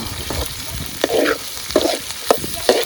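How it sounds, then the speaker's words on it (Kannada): Sliced capsicum and green beans fry in a hot pan for street-style egg noodles, with a steady sizzle and a few louder scrapes of stirring, close and without talk. "ಬೀನ್ಸು, ಕ್ಯಾಪ್ಸಿಕಮು ಇದೆಲ್ಲ ಲೈಟಾಗಿ ಫ್ರೈ ಆದಮೇಲೆ ಎಗ್ಸ್ ಹಾಕೊಳ್ಳೋಣ ಆಮೇಲೆ"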